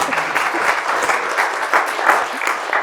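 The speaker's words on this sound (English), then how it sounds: "Round of applause for Denise." An audience breaks into a lively round of applause at a live talk event, dense clapping filling the room with a few louder bursts and faint voices mixed in.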